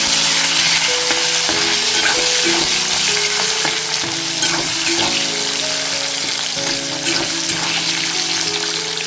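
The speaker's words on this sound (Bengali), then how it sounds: "ক্যাপসিকামগুলো দিয়ে দিচ্ছি এগুলো হালকা ফ্রাই করে নেবো" Capsicum lightly frying in ghee in a pan, a loud continuous sizzle with stirring scrapes, and a faint tonal hum running underneath.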